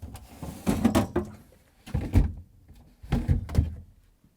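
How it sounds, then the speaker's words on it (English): Crisper drawers slid out of an open Samsung refrigerator's fresh food section: three clusters of nearby plastic thumps and scraping rattles, separated by short pauses, with no one talking. "Let's remove the drawers."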